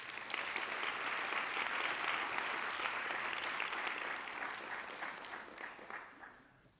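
A crowd applauds at a school poster competition ceremony, steady clapping from many hands that holds for several seconds, then thins and fades out.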